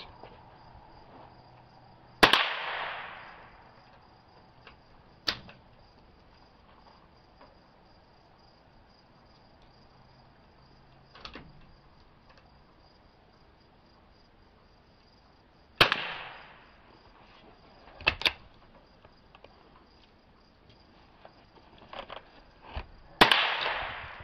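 Rifle shots from a bolt-action rifle fitted with a Basix trigger, five sharp cracks spaced irregularly over the stretch, loud and close with brief echoing tails and quiet gaps between them.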